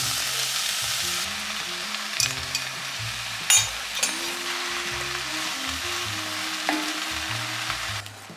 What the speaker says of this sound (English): So I'm gonna add in all of the mushrooms that we sliced up.